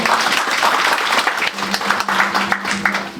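A church congregation applauding during a sermon, loud, dense close clapping that swells and eases in waves throughout.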